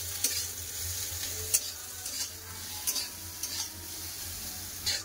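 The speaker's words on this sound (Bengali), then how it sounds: "এবার একটু ভালো করে নাড়াচাড়া করে নামিয়ে নেবো।" Sliced onions and bitter gourd frying in a pan with salt, a close, continuous sizzle broken by a handful of scraping strokes of the spoon.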